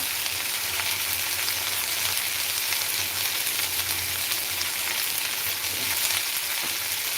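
Garlic and onions fry in a pan, browning, with a loud, unbroken close-up sizzle and faint stirring, and no one speaking.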